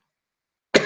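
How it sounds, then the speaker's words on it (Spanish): A single short cough bursts out close to the microphone after a stretch of near silence, abrupt and fairly loud at the very end. "Voy a empezar tosiendo"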